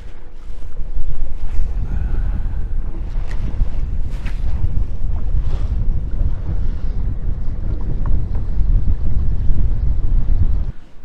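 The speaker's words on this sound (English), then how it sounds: "Wind is just crazy, so I'm trying to hide behind some of these islands here" Strong wind buffets a fishing boat on a lake, roaring loud and gusty against the microphone with low rumbling and splashing water throughout.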